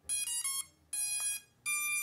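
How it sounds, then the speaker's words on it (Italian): Three loud electronic buzzer beeps from a DJI Mini SE 2 drone powering on sound alone in an even rhythm, each a shrill tone lasting about half a second, with short silences between. "Solito cicalino di questi droni."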